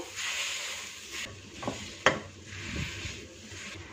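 Mashed potatoes and spices for samosa filling are fried and stirred in a pan. Soft sizzling runs under several scraping strokes of a spoon and one sharp clink against the metal, with no talk.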